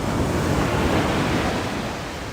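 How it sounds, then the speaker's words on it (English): Ocean waves breaking on the beach at Myrtle Beach, a continuous loud wash of surf with wind noise, no voices. "I love the sound of the ocean."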